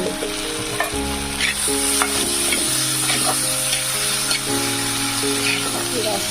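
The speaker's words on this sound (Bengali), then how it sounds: "টমেটোগুলো একটু নরম হয়ে যায় তারপরে দিয়ে দেবো পেঁয়াজ রসুনের পেস্ট একটু টমেটোতে দিয়ে দিলাম একটু হালকা লবণ হলুদ আর একটু লঙ্কা গুঁড়ো" Tomatoes seasoned with salt, turmeric and chilli powder fry in a pan, a loud steady sizzle with occasional stirring, heard under background music.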